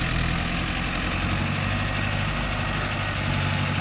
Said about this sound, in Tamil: வண்டி இன்ஜின் எந்த அளவுக்கு அடங்கி போகுது